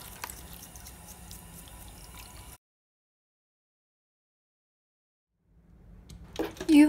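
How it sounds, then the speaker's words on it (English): Water splashes and drips steadily while a red-eared slider turtle's shell is brushed and rinsed. The sound stops abruptly into silence partway through, then returns with louder clattering near the end. "Use another brush to brush the shell when rinsing, to ensure the shampoo is totally rinsed off."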